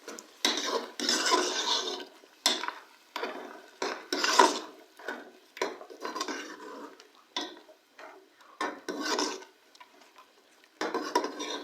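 A spoon scrapes and clanks around a pot as tomato paste is worked into beef aloo gosht curry, irregular close strokes with pauses between bursts.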